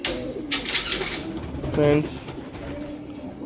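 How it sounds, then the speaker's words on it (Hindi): Pigeons coo softly in a loft, a low burbling call rising around the middle, with someone talking throughout and brief chirpy bird sounds early on. "आप देख सकते हैं इन कबूतरों को।"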